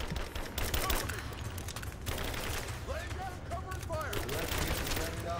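Rapid gunfire from the video game Rise of the Tomb Raider, dense crackling shots in bursts throughout, with a player talking over the game audio.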